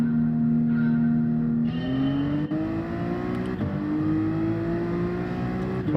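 A Toyota Supra race car engine in the video game Gran Turismo 7 holds a loud, steady drone, with its pitch climbing gradually as it revs up through the gears. No one speaks.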